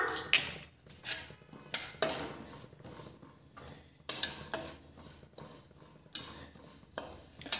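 Turmeric powder and dry spices stirred while dry-roasting in a pan, a steady run of sharp metallic scrapes and clinks from a utensil against the pan, close and repeated.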